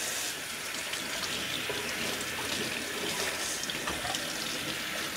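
Tap water runs steadily into a sink while freshly harvested lettuce is washed, a continuous close splashing rush with no voices.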